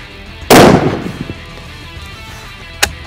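A single loud, close gunshot from a Sako 85 Classic Deluxe rifle in .375 H&H fired with iron sights at an outdoor range, a sharp blast with a decaying echo, followed by a faint click near the end.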